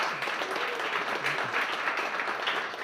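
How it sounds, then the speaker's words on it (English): An audience at a business event gives a steady round of applause, with dense clapping from many people heard at moderate volume throughout. There are faint murmurs underneath. "Can you guys just give a big round of applause for Michael?"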